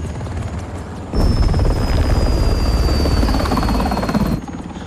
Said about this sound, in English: Friendly air traffic approaching south.